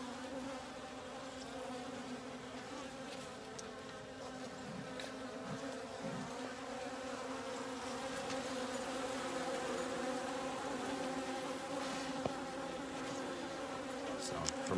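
Honeybees buzz around an open top bar hive during a midsummer inspection, a steady, fairly quiet drone of many insects with a few louder passes close by.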